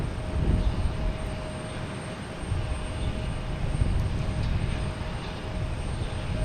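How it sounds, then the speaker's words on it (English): A Delta airliner arriving from Atlanta lands at Boston's Logan Airport, heard as a broad, distant roar of jet noise that holds steady without speech. "We have a Delta coming in next from Atlanta."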